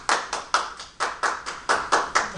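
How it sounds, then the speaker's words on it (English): A small group at a real estate office gathering claps in slow, distinct, evenly spaced bursts, about ten close, crisp claps with no talking. "let's give it a round of applause"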